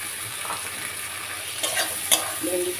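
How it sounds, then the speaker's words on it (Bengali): Okra being stirred into a frying spice masala in a pan, with a steady close sizzle and scraping stir strokes building toward the end, no talk. "ভেন্ডিটা করতে থাকি এর সঙ্গে"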